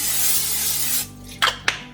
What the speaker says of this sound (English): olive oil cooking spray